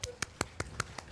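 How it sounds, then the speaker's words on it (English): Hands clapping in a church congregation at a steady, even beat, six crisp claps about a fifth of a second apart, fairly faint and close, with no other sound between them. "we're going to start to clap"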